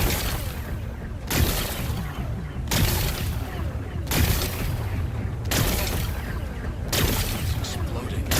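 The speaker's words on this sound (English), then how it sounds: "Gonna blast away some rocks, so we can expose the power cell." Rocks blasted apart in Horizon Forbidden West: a string of loud, broadband explosive bursts at roughly one-and-a-half-second intervals, each a sharp crack followed by rumbling debris, steady and close throughout.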